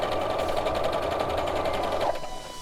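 Sewing machine running a straight stitch through fabric in a steady, fast needle rhythm close by, stopping briefly near the end.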